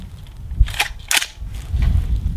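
A rifle fires 220 grain subsonic rounds as two sharp, fairly muted reports about half a second apart, set against low outdoor rumble.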